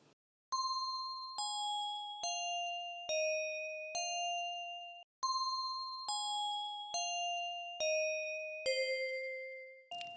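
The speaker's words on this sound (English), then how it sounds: "I'm just going to grab this doorbell from Analog Lab" Two sequences of bright synthesized doorbell chime tones ring out, each a descending run of four or five bell-like notes with long sustained tails.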